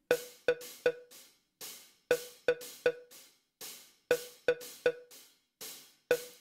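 A dry drum kit and a plucked Omnisphere synth note alternate in a steady pattern, each hit cutting off cleanly with no delay, echo or trailing repeats.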